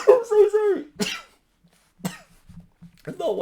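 A person with a lingering illness coughs several times in short, harsh bursts with pauses between, close to the microphone, with a bit of speech around the coughs.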